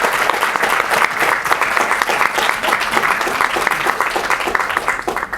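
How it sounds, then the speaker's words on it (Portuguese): An audience at a cinema theatre's reopening night breaks into loud, sustained applause, with many hands clapping in a thick, steady wash throughout. "Uma salva de palmas para o segundo Cine"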